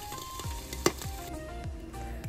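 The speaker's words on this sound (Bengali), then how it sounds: "এগুলোকে হালকা স্যালো ফ্রাই করবো বলে বসিয়েছি" Food shallow frying in a pan, a quiet, close crackling sizzle with scattered pops and one sharper clack, continuous and heard alone.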